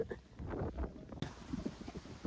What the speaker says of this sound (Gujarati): પવનનો જ અવાજ આવે